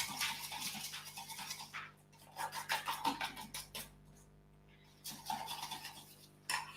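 Sugary egg mixture being beaten by hand in a bowl, a quiet scratchy whisking in quick bursts with two short pauses, no talking.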